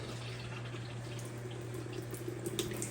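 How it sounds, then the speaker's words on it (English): Water flowing into a Maytag washing machine being repaired for low flow, a steady faint rushing and splashing stream with a low hum beneath, no talk. "good water flow"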